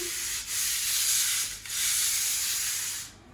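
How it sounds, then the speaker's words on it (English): A pole sander scrubs up and down across a wall in two long, steady passes of broad, hissing abrasion, each with a brief pause, close and fairly loud with no talking. "So you just grab your pole sander and just go up and down."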